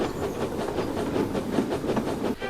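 A vintage train rolls steadily away from a station, its carriages giving a continuous rumbling, rhythmic clatter over the rails, close and fairly loud throughout with no voices.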